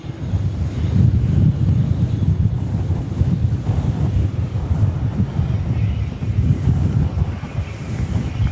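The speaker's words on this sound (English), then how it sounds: "how briskly the wind is blowing at this moment" Wind blows at night outside near a busy airport, rough gusty rumbling buffeting across the microphone that rises and falls in surges, with a faint distant roar underneath.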